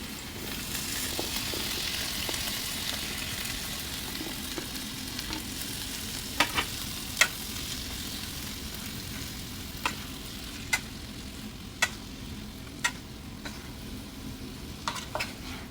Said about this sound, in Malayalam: എല്ലാം പിടിക്കത്തക്ക രീതിയിൽ അങ്ങോട്ട് ഇളക്കി അങ്ങോട്ട് കൊടുക്കുക